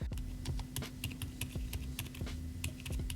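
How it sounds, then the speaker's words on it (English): Fast, steady typing on a Mode 65 keyboard fitted with silent tactile switches: close, muted keystrokes in a continuous irregular patter, with no voices. "this is the Mode 65 keyboard, customized with silent tactile switches"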